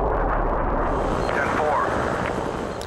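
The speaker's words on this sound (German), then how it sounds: "Der schwingt sich übrigens gerade in einem MiG-29, einer der vielen Fahrzeuge im Spiel." A MiG-29 jet in the video game Battlefield 2 roars past loudly in a sustained rushing whoosh, with a narrator talking over it.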